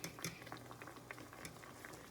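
Spaghetti noodles simmer in a pot of boiling water, a steady low bubbling with soft scattered pops and occasional light clinks, no voices present.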